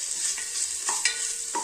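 Green chillies sautéing in hot oil for a Seeraga samba rice pulao, giving a steady broadband sizzle with a few soft stirring scrapes over a short stretch, no voices.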